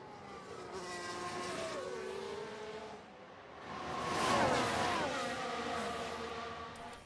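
F1 car in the racing game F1 Manager 2022 spinning: engine whine rises and falls with a swelling screech of tires mid-clip, moderately loud over a steady race-sound backdrop.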